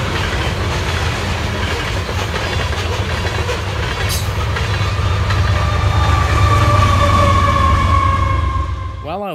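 A Union Pacific freight train rumbles steadily past up close, wheels clattering on the rails, with a louder surge near the end as the rear AC44CW distributed power locomotive goes by.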